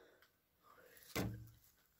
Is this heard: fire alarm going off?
no